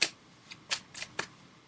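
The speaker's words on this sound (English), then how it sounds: "So I'm just shuffling the cards now." Tarot cards are shuffled by hand close up, heard as a few soft, crisp riffling flicks spaced irregularly across a quiet room with no talking.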